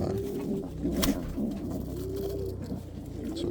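Pigeons in a breeding loft coo nearby in low, rolling, repeated calls, with soft shuffling and a brief sharp tap among them.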